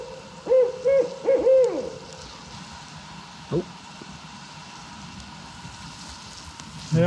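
An owl near a remote Maine pond hoots in a quick cluster of deep calls, followed by one more single hoot. A soft rain-like patter runs beneath the calls.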